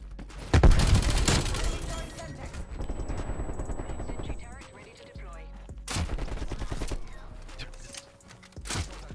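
Rapid bursts of gunfire ring out in Black Ops Cold War during a Hardpoint match, with several loud volleys and short pauses between them, while other game sounds play underneath.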